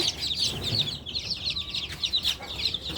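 Chicks cluck and peep nonstop nearby, a busy chorus of high, bright chirps with no talking.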